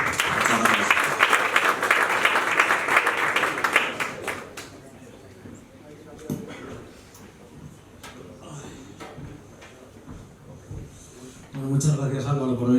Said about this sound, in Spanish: dar la bienvenida a Álvaro Sendagorta, por favor, fuerte aplauso.